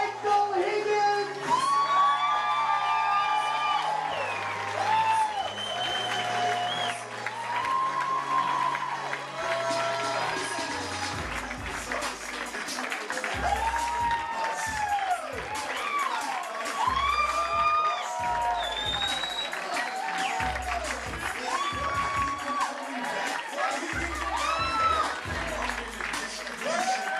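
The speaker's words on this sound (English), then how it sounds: "put your hands together, our newlyweds, Mr. and Mrs. Michael Higgins" Wedding guests applaud, cheer and whoop as the newlyweds make their entrance at a reception, a sustained crowd roar with shouts and yells mixed in and a voice talking over it throughout.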